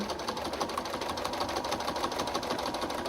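A sewing machine stitches along the edge of a picture frame flange border, a steady fast mechanical hum and rapid needle clatter running continuously at close range.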